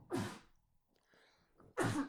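Two sharp sneezes, one at the start and one at the end, separated by a quiet breathy pause.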